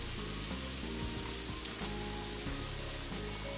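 Chicken sizzles and fries in a hot pan, a dense, loud, continuous crackle close by, with a low hum running under it and no voices.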